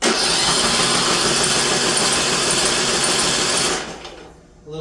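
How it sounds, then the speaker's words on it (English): A Briggs & Stratton PowerBuilt engine on a rear-engine rider is cranked with the spark plug out, giving a loud, even, rapid starter whir with no compression that runs steadily for about four seconds, then stops abruptly. "I'm taking the spark plug out so I can crank it with no compression, clear the cylinder"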